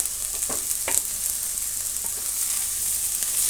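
Finely chopped tomato and carrot fry in a pan for carrot upma, producing a close, continuous sizzle with a few sharp crackles and pops early on.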